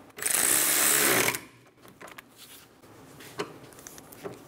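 A power ratchet snugs a brake hose bracket bolt on a 2003–2007 Honda Accord during wheel bearing work, one loud buzzing burst of about a second, then quiet shop clicks and faint clanks.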